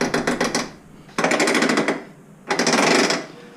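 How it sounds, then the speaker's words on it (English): A TORQ locker installed on a Honda TRX300FW Fourtrax ATV ratchets while the machine turns: three loud bursts of rapid, rattling clicks with short quieter gaps between them. "Now you do have some ratcheting you'll hear going around corners."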